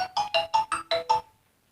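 A mobile phone ringtone for an incoming call plays six rapid bright electronic tone bursts in an even rhythm, fairly loud and close, then cuts off into silence.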